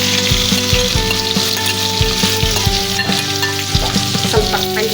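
Onions and curry leaves frying in oil in a pan make a loud, steady sizzle with a constant crackle, broken by rhythmic scraping stirs and taps, close and alone.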